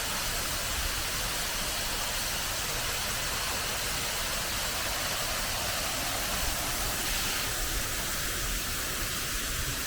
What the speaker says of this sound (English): we've just come across this very picturesque waterfall